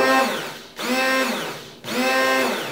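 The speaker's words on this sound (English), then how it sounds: "You could just put the immersion blender back in and just give it a couple quick" An immersion blender whirs in two quick pulses through roasted garlic aioli, each a loud, close motor whine that rises and then drops into a short pause.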